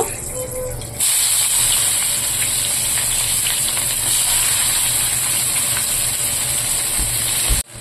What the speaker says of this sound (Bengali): এই যে পেঁয়াজগুলো অল্প একটু সামান্য ভাজা ভাজা করব